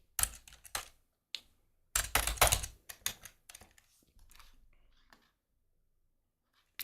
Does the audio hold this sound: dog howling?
no